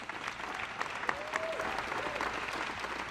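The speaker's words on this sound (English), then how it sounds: "let's give another round of applause for our astronauts" Sustained applause from the audience at a Blue Origin New Shepard press conference honoring the astronauts, a dense steady patter of many hands with faint crowd noise, moderately distant.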